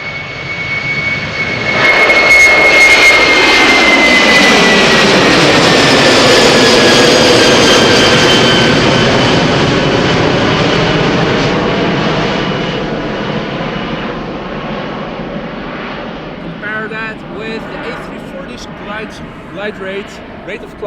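An Airbus A330-300 airliner, PH-AKB, climbs out of Schiphol with a loud, close jet roar and a high engine whine that sweeps downward, then rumbles as it fades into the distance while a voice speaks over it.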